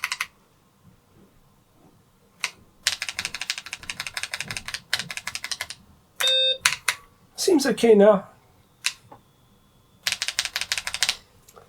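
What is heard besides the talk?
typing on BBC Model B computer keyboard keys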